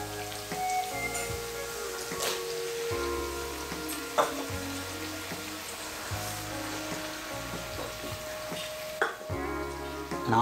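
Tomatoes go into a pan of moong dal curry and fry with a continuous close sizzle and crackle, broken by occasional sharp clicks and knocks of stirring; no speech, with background music running underneath.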